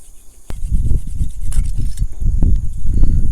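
Hunting knife blade drawn against a sharpener outdoors, repeated close rubbing and rasping strokes in an uneven rhythm, fairly loud, with no talking.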